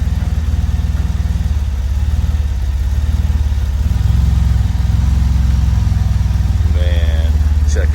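DeLorean car engine revving as the throttle is blipped, a steady close idle rumble with slight surges in throttle, with people talking over it.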